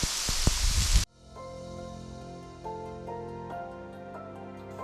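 Steady rain patters loudly for about a second during a hike on the SNP trail, then cuts abruptly to sustained musical tones.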